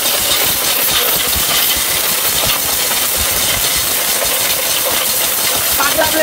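An electric blender runs steadily at full power, grinding turmeric with a loud, continuous whirring roar from start to finish.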